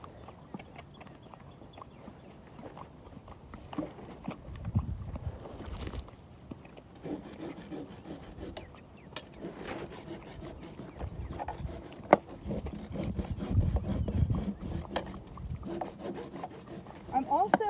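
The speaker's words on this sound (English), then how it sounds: "pull my horse's hoof forward, rasp around the perimeter" A horse's hoof rasped around its perimeter: repeated rough rasping strokes against the hard hoof, close up, with uneven scraping rhythm and a few knocks; no talking.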